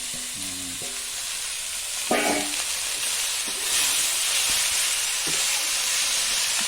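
Finely chopped spinach frying in a pan, a loud continuous sizzle and hiss with a few clinks and scrapes of stirring, steam rising steadily throughout.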